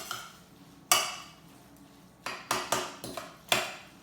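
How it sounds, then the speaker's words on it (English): A utensil stirs chicken sesame noodles in a pan. A few sharp metallic clanks and scrapes come close together against the pan, with short quiet gaps between them. "And again, let's stir those through."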